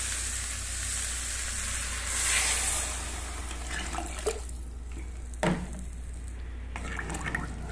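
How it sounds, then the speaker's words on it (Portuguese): Water poured into a pot of beans with bay leaves sizzles steadily in a home kitchen, a continuous frying hiss with a brief louder surge and a few clinks of the pot. "Colocar água agora."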